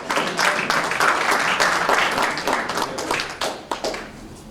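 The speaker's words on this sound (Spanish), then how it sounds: "Denle fuerte aplauso al Señor" A church congregation claps loudly for the Lord, a dense burst of many hands that carries on strongly and then thins out toward the end, with no talk over it.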